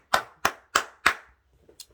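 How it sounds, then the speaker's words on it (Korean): A church congregation claps in applause, four sharp, loud, evenly spaced claps followed by a few faint scattered ones, with no talking. "주님께 영광의 박수 한번 합시다"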